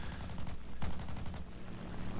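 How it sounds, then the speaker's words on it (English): MG151 cannons on an Fw 190 A-5/U2 in War Thunder fire in steady rapid bursts, a continuous mechanical rattle with one louder thump partway through, heard alone at moderate, slightly distant level. "MG151 cannons are, in my opinion, among the best in War Thunder"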